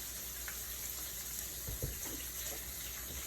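A kitchen tap runs steadily while hands are washed, a soft continuous water hiss with a brief splashy disturbance midway.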